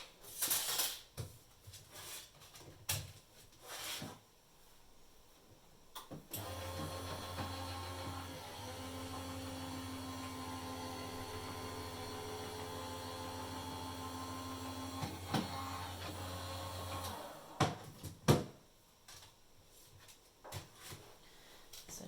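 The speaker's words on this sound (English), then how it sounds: "I'm just going to pop this through my die cutting machine" An embossing folder holding a card panel rolls through a die cutting machine, giving a steady mechanical hum and rumble for about eleven seconds, with quieter handling clicks and knocks before and after.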